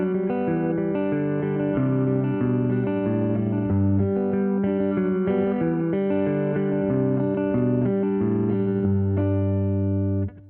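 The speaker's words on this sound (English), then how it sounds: "I'm using a pick because I'm playing on an electric" The intro to a song is picked on an electric guitar with a pick, a steady flow of bright, close notes and bass runs that rings without pause and then stops abruptly.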